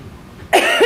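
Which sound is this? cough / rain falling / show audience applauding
cough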